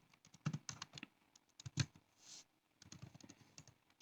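Quiet, close typing on a computer keyboard, with irregular bursts of keystrokes and brief pauses while entering a JSON order ID, and no talk.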